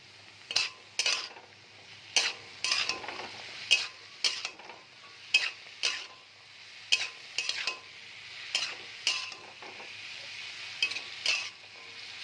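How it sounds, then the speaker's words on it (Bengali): A spatula scrapes and knocks rhythmically in a pan as salt, sugar, turmeric and slit green chilli are stirred together with bottle gourd, roughly a dozen distinct strokes over a faint sizzle. "এবার আমি এটাকে ভালো করে নেড়ে নেব।"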